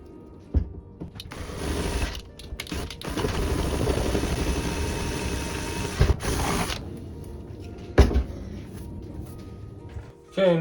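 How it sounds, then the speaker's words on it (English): A drill bores a hole out to 9 mm in a moped windscreen for a wiper motor mount, giving a steady grinding whir that runs for several seconds, followed by a few sharp knocks and handling clatter. "Then next we're going to drill it to a 9mm."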